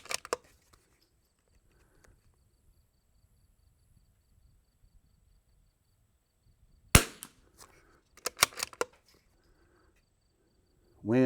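CZ 457 rimfire rifle in an MDT XRS chassis with a Shilen barrel, firing Eley Tenex ammunition outdoors: sharp, short cracks, one after a long quiet pause, then a quick cluster of several shots, each fairly near and clear.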